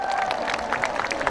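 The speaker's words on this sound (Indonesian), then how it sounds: "Tepuk tangan dong." Applause and crowd noise from an audience of Islamic boarding school students at a speech, a dense, steady patter of clapping mixed with murmuring voices throughout.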